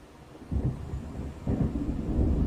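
Low rolling thunder from an approaching storm in the video game Alan Wake, two deep rumbling swells building one after another, loud and close with no talk.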